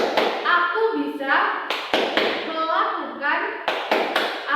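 Young children in a second-grade classroom beat out a rhythmic clap chant in unison, with bursts of claps and sharp taps alternating with group voices chanting along.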